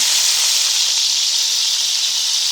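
A 4-pound beef roast sears in a hot pot for sauerbraten, giving off a steady, loud hiss and sizzle that holds unbroken throughout with no talking.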